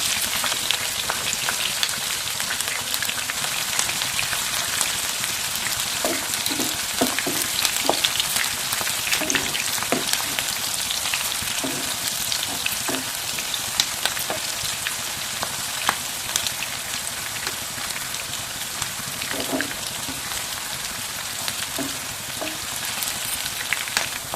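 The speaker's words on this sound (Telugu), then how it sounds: "ఆయిల్ అవుతూ హీట్ అయిపోయింది మనం కట్ చేసిన పచ్చిమిర్చి మనం కట్ చేసిన ఉల్లిపాయలు" Chopped green chillies and onions frying in hot oil in a pan, a continuous crackling sizzle with intermittent stirring clicks, close and steady throughout.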